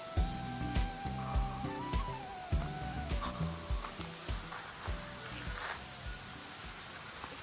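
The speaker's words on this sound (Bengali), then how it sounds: "পুরো এই জঙ্গলটাতে ঝিঝি পোকা ভর্তি রয়েছে" Crickets fill a hill forest near Kalimpong in North Bengal with a dense, continuous high shrill chirring, heard alongside scattered low knocks and rustles close to the microphone.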